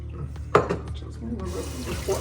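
Grated potato juice for draniki is poured into a kitchen sink, a soft running, splashing trickle that starts with a sharp knock and continues steadily for a couple of seconds.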